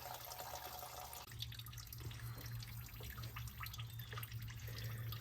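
Fuel from a 1967 Mustang tank pours in a steady trickling stream into a drain pan, close and continuous, with a brief spoken word near the start.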